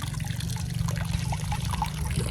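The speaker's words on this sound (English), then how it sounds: "The hose got the water going, and it is working good right now" Water gushes from a garden hose with ice inside it, fed by a solar pump, making a continuous splashing trickle with a low steady hum beneath, close and constant.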